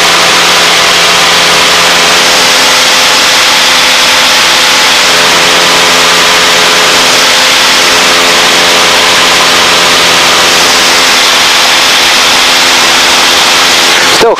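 Air Plains 180 HP light aircraft engine running steadily at 2,500 RPM during a climb, a loud continuous cockpit drone with steady harmonic hum and wind noise, unbroken throughout with no talk.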